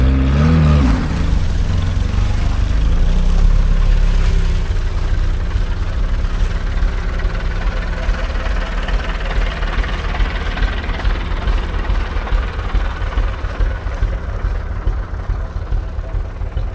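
Ursus C-360 style 60Tka tractor engine running and driving over muddy ground, a steady close mechanical drone that swells briefly near the start and then holds a rough, even hum throughout.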